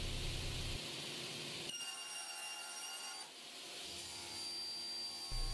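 Table or panel saw ripping an 18mm oak-veneered MDF panel in a workshop, a steady loud high whine with a shifting pitch as the blade runs through the board, alone without talk.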